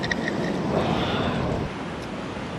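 River water flowing steadily over a small rock weir at a motorcycle campsite, a continuous close rushing wash that holds loud throughout and eases slightly near the end.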